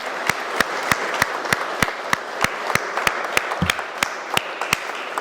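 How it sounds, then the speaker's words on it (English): A small group clapping in applause at a community sports club meeting, with sharp, regular claps standing out over a softer background of hands. "I want to give them a round of applause because they've done this for us"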